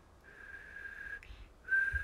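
A person attempts whistling: a thin, steady whistled tone holds for about a second, breaks off briefly, then returns slightly wavering; quiet and close with faint breathy noise.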